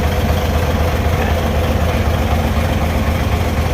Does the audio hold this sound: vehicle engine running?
yes